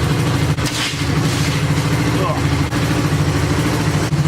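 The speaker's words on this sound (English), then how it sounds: "we're going to let that run for a few minutes and warm up the engine" 1975 Honda CB125S motorcycle engine idling to warm up, a steady, rapid low putter heard close by, with a few brief knocks and a voice speaking over it.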